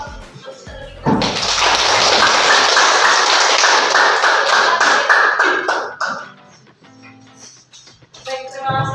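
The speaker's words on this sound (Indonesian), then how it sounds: "Kita beri aplaus untuk terlebih dahulu." An audience in a hall claps together for a presenter at a school positive-culture dissemination session, a loud sustained round of applause lasting about five seconds before it dies away into quiet shuffling.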